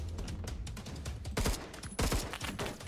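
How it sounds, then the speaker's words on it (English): Rapid automatic gunfire from Roblox Phantom Forces rattles in a dense, continuous stream of close shots, with a couple of sharper bursts standing out, loud and alone without voices. "he shot me through the wall"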